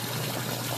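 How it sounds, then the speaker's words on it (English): Water pouring out of a basement sump pump discharge, a steady, full gushing rush with a trickling texture, close and continuous with no voices. "the sump pump still lifts it up and carries it out."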